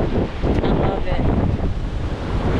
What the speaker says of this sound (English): Look at those waves in the background.